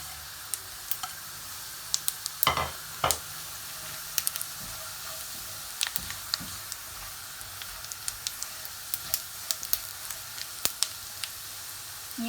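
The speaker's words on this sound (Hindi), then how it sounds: "प्याज यहाँ लाल हो गई है और इसमें ज़ीरा डाल देते हैं।" Cumin seeds sizzle in hot oil with onions fried until red for zeera pulao, a steady close hiss broken by sharp crackles and pops, with a few stirring scrapes and no talk.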